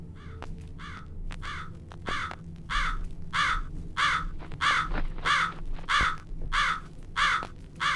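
A crow in the horror game Jisatsu caws again and again in a regular rhythm, loud and close, each harsh call evenly spaced over a low rumbling ambient background.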